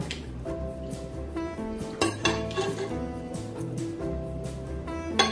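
Pot-au-feu ladled from a saucepan into a thermos, with metal ladle and pot clinks, scrapes and light clatter repeating close by over a soft liquid bed.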